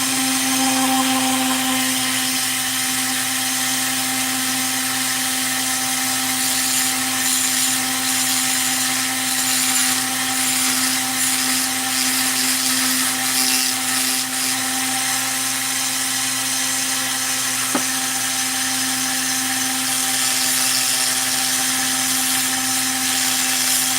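A rotary tool fitted with a football-shaped diamond bit runs fast while grinding bevels, giving a steady, continuous high whine with a constant tone, close and alone for the whole stretch.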